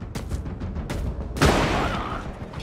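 A grenade explodes in the shooter game Corruption 2029: a sudden loud, close blast bursts out of ongoing gunfire and rumbles off slowly, with scattered shots before it.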